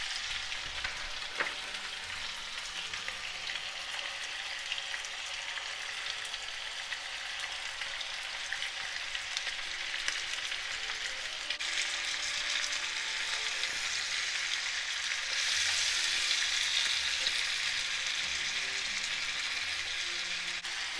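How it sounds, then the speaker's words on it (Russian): Carrots frying with meat under a lid for plov give a continuous, even sizzle that swells a little louder toward the end, steady and close with no voices. "И теперь оставлю обжариваться морковь вместе с мясом под крышкой, пока она не станет мягкой"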